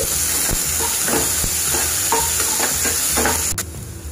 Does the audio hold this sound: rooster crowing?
no